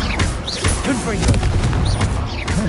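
The Confringo blast spell goes off in Hogwarts Legacy with repeated booming bursts and crackling magic effects, heavily layered with shouted spell voices.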